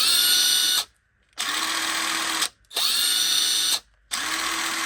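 Parkside 20V cordless drill revving in three long whirring bursts with brief silences between, steady and close, each start rising to a high motor whine.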